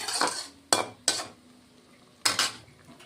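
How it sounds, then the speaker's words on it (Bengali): A metal lid set onto a pot of pea greens cooking in a little water, several sharp close clanks and scrapes of metal on metal, with a faint simmer between them. "এখন আমি ঢেকে দেব"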